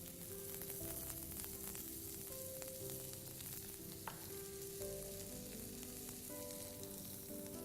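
Garlic and onions frying in a pan over lowered heat. Produces a continuous, even sizzle with soft crackles throughout and no speech.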